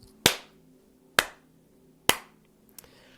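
Three sharp, loud claps from a class, evenly spaced about a second apart and heard close, each dying away fast, followed by a faint small tap.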